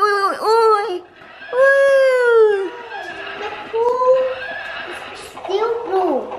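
A horse neighs in a park, with several loud whinnies rising and falling in pitch, close and clear, separated by short gaps.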